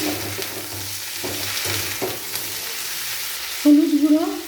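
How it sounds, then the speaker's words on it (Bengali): Potato, carrot and yardlong bean pieces stirred in hot oil, giving a steady close sizzle with scraping stir strokes, then a sharper, louder crackle as more vegetables hit the pan near the end. "এরপর গাজর আর বরবটির টুকরোগুলো দিয়ে দেব। নাড়াচাড়া করে নেব তেলের মধ্যে।"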